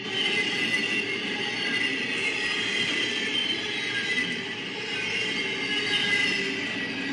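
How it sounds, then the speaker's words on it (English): Cargo train passing right in front of a car, a steady metallic rolling rumble with faint squealing wheels, continuous and fairly close with no clear clack rhythm. "this is actually a cargo train passing right in front of the car"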